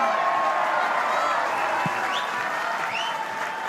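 A Canberra crowd at a women's football match between Canberra United and Perth Glory roars and applauds in a dense, continuous wash, with occasional whistles rising above the noise.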